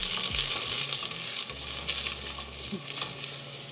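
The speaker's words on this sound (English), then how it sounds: "You can already hear it sizzling. Gonna put my onion in." Onion sizzling in a hot pan, a steady bright hiss of frying that runs throughout, with low clinks and scraping from stirring underneath.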